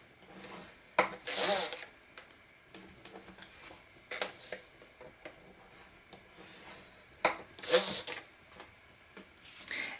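A scoring tool drags along paper on a scoreboard for an album craft project, giving short scratchy swipes at a few irregular moments between soft taps and handling noises, close and moderately quiet.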